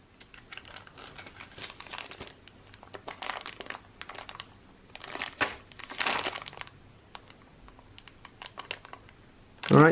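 Paper envelopes holding 1965 SMS coin sets are torn and opened by hand, giving repeated close crinkling and rustling bursts in uneven clusters, with a louder clunk at the very end.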